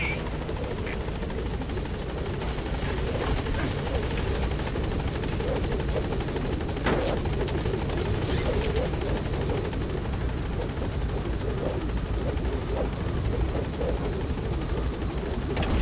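Video game helicopter arriving at a landing zone, a steady loud rotor drone filling the whole stretch with constant chopping texture and no break.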